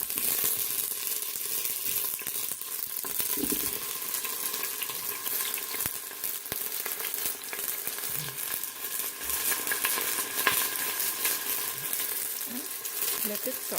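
Green chilies and halved raw potatoes sauté in an Instant Pot, giving a steady, moderate sizzle throughout with a few faint clinks and bumps, no talking.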